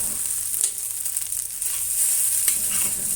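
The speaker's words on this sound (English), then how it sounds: "Keep stirring and flipping for a minute and turn up the heat to the maximum during the last 20 seconds." Rice stir-fried in a wok over high heat, a bright continuous hiss of sizzling with scraping, tossing strokes of the spatula, close and alone.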